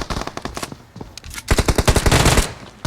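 Rapid automatic gunfire in a video game, loud and close, with a short burst, a brief pause, then a longer sustained volley of fast repeated shots.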